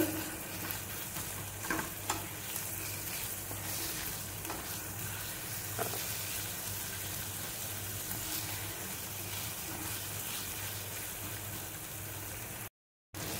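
Tomatoes softened in a pan with ginger stirred in, frying with a steady close sizzle and occasional scraping stirs throughout, no talking.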